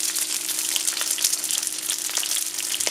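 Constant crackling sizzle of water hitting a hot pan, a dense frying hiss with small pops throughout, close up.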